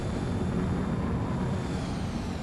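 A fighter jet in Ace Combat 7 attempts a landing low on fuel, its engine a steady, loud, low roar that holds evenly throughout.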